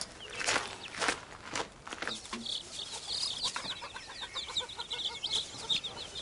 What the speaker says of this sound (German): Immer dem Gegacker nach.